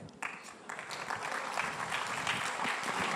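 An audience at a live summit breaks into applause, with a sudden onset of dense clapping that builds and holds loud and steady to the end.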